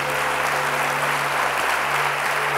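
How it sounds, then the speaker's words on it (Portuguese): A church congregation applauds, a steady, dense clapping that carries on evenly throughout at close range. "Aplauda ao Senhor nessa noite."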